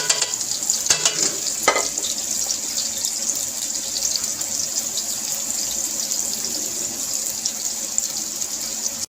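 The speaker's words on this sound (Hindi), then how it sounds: "तो ऑयल थोड़ा सा गर्म हो गया, मैं डालने लगी प्याज।" Sliced onions hit hot cooking oil in a pan, giving a steady, close hiss of frying with a few brief clatters near the start; no one speaks.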